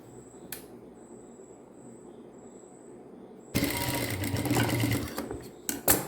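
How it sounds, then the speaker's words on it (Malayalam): A sewing machine starts after a quiet pause and runs loudly, stitching a folded hem on a draped skirt with a steady mechanical whir and rapid needle clatter, then stops with a few clunks. "നമുക്കിതിനെ ഇനി മടക്കി അടിച്ചെടുക്കാം"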